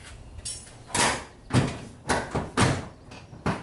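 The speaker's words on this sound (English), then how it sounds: "Okay, yeah, hood closes." Several dull thuds and clunks as the hood of an NA/NB crossbred Mazda Miata is lowered and shut, close and irregularly spaced, with no talking.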